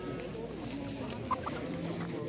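Chickens cluck continuously at a busy poultry market in Batken, Kyrgyzstan, with a rooster's calls mixed into the steady murmur of the flock.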